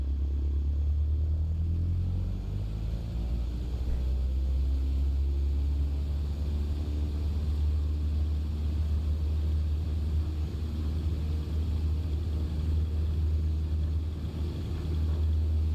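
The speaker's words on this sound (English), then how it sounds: "let's get ourselves up in the air now to Tingwall" A propeller mail plane on the Shetland route to Tingwall takes off, its engines holding a loud, steady low drone that rises slightly in pitch over many seconds, with no talking.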